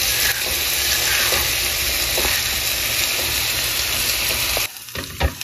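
Lentils frying in a pan with ginger-fennel paste, a loud continuous sizzle with scraping stir strokes, cutting off near the end to a few quieter clinks.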